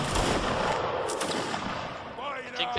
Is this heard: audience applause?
no